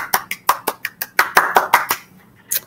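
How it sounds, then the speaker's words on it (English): A small group claps by hand in a quick round of applause, about a dozen sharp claps in fairly regular rhythm that thin out and stop, then one last short burst. "Give them a round of applause."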